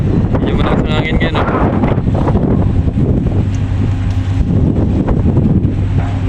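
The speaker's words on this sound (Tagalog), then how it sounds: "Yung malakas ng hangin ngayon, no?" Strong wind buffets the microphone with a continuous low roar and gusts near two ships at sea, while a voice talks briefly in the middle.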